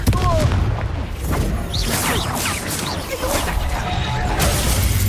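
Confringo curse explosions in the Hogwarts Legacy video game, loud booming blasts and crashes amid dense, continuous combat effects and whooshes, with dialogue heard over the chaos.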